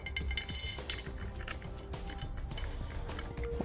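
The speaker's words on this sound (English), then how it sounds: "We'll tighten these down." Ratcheting and creaking metal as bolts are tightened down on a LoadLifter 7500 XL air helper spring bracket, with clicking pawl sounds and clinks close by, fairly quiet and without speech.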